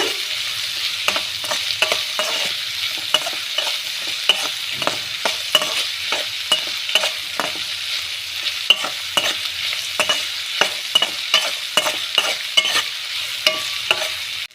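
Radish stir-fry sizzles in a pan while a spatula stirs and scrapes it in a steady, repeated rhythm, close and fairly loud, with no voices throughout.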